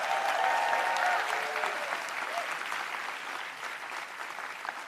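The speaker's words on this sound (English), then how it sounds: "yes, you deserve a round of applause." Steady, fairly distant applause from a roomful of campaign staff and supporters at Michael Bloomberg's address after ending his presidential run, a continuous patter of many hands that eases slightly toward the end, with a brief voice early on.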